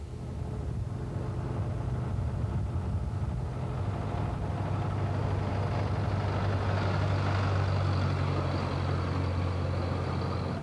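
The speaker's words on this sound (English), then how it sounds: "Another Albion Chieftain, here seen hard at work during the Transpennine Run." A 1950s Albion Chieftain lorry working on the Transpennine Run, its diesel engine giving a steady low rumble that builds slightly, heard continuously at moderate distance.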